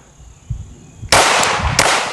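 Gunshots at a shooting range ring out with a Heckler & Koch pistol, one loud crack followed by a few more quick reports after a quiet handling noise.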